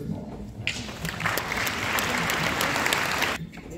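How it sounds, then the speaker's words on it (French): An audience at a UNESCO poetry interlude bursts into applause after a brief pause, clapping steadily for nearly three seconds before it drops away. "Moussa, sous vos applaudissements."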